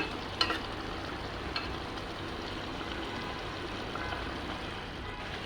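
Small fish cooking in a pan over a stove, a soft, steady sizzle and bubbling heard at low volume, with a few faint clinks near the start.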